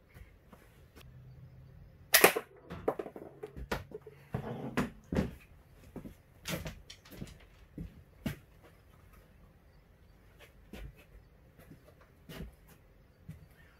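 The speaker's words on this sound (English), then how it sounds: "first we're going to shoot the pepper" Slingshot crossbow shooting a pepper inside a box: a series of sharp snapping thwacks and clacks at irregular intervals, with a loud burst early on and quieter knocks after, no talking.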